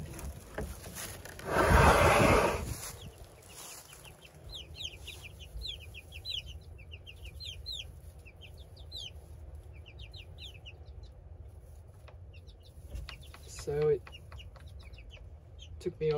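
Soft clucks and chirpy peeps from young chickens in a hen house scatter through the quiet, after a brief loud rustling burst near the start, with a voice now and then.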